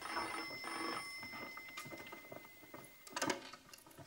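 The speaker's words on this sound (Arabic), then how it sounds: "رد على التليفون يا دكتور." A telephone rings indoors in an Egyptian TV drama scene, a soft repeating electronic ring with faint background shuffling, moderately quiet and with no talking.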